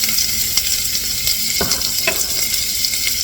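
Bacon grease and onions frying in a pan, a steady close sizzle with a few stirring scrapes and clicks, with no talk.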